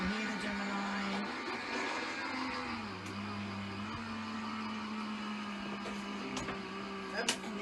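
A Gemini foil press machine feeding material through its rollers, producing a steady mechanical whirring hum with a slight pitch dip partway and a couple of faint clicks near the end.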